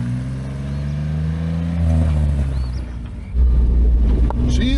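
A Toyota pickup with a swapped-in Jeep engine drones steadily on a test drive, the engine rising in pitch and then surging louder as it accelerates, heard from inside the cab with wind noise.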